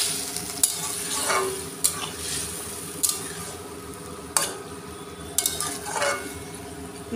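Katla fish curry being stirred in a frying pan with a spatula over sizzling oil, a continuous hiss broken by sharp scraping clanks of metal on the pan every second or so, close and without talk.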